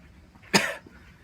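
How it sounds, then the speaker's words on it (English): A single close, sharp cough, one brief burst with no talk around it, from a person in a room where a device had been beeping. "I'm coughing."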